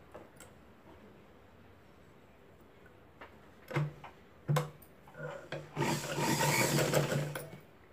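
Sewing machine stitching blouse fabric with large stitches along the top edge, heard as brief bursts of mechanical ticking that build into a denser, louder run near the end, with no talk.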